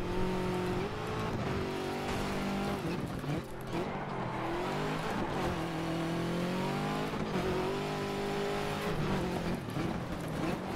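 A rally car engine roars continuously in the racing video game DiRT 2, revving and shifting through corners with loud, steady tone changes and brief tire noise, with no talking.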